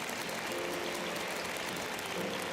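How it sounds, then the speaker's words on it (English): Audience at a think tank forum applauds a panel introduction, with continuous, even clapping filling the hall throughout. "Please give them a round of applause."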